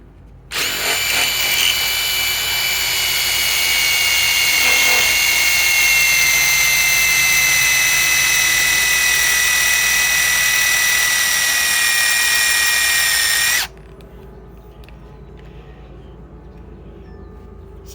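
A Ryobi PSBIW25 compact impact wrench on a 21700-cell battery runs loud and close in one long steady burst of roughly thirteen seconds, its high whining hammer holding level before cutting off abruptly into quiet room noise.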